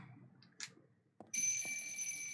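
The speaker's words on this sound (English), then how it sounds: "Oh, no, that's not a phone. That's an alarm." An alarm in the video game Silent Hill 3 starts after a few faint clicks and bumps, then rings steadily as a bright, sustained electronic tone that is close and fairly loud.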